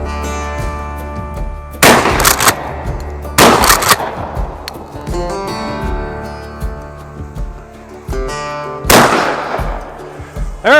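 Gunshots fired at a falling drone outdoors, several loud sharp blasts spaced a few seconds apart, each trailing into a ringing echo over a constant hum.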